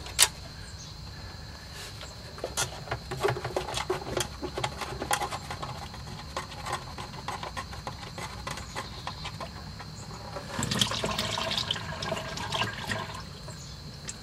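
Transmission fluid pours from the dropped pan of a 1995 Ford Crown Victoria, a steady close splashing stream with a heavier surge near the end and no talking.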